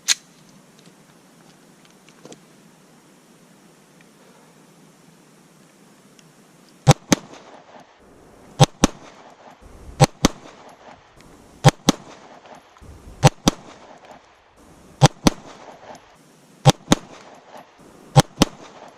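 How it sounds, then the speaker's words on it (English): Gunshots fired at a target during outdoor shooting practice, with sharp, loud reports mostly in quick pairs repeating every second or two after a quiet opening stretch. "we'll add to it by coming up and giving 2 rounds on target and then punch back and create distance"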